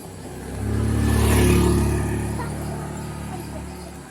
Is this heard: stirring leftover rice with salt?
no